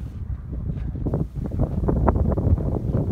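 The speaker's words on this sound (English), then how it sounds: "Lovely wind you can hear in the background." Wind gusting outdoors in Canyonlands National Park, buffeting the microphone in rough, low rumbling bursts that build and ease over a few seconds.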